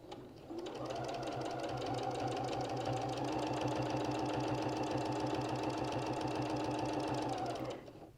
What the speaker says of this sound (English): I'm going to go ahead and sew